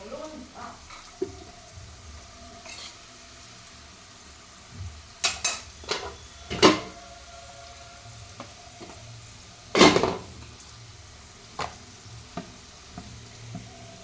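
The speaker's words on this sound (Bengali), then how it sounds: "এটা ছাকা তেলে ভাজতে হবে" Pumpkin pieces deep-frying in oil in a home kitchen, a steady low sizzle running throughout with a few sharp metallic clatters and scrapes of utensils near the middle.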